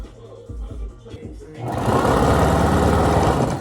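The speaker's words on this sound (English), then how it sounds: "turn them inside out, and then you gonna sew it together like this" After a moment of talking, a sewing machine starts up and runs steadily and loudly, joining the flare panels of cut-up double-waist jeans.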